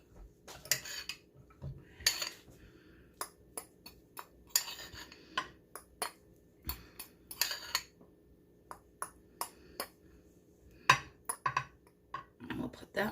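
A spoon clinks and scrapes against a bowl while a rice and cauliflower casserole mixture is stirred for a Mexican layered casserole, giving an irregular series of sharp taps and scrapes, near and fairly loud, with no talking.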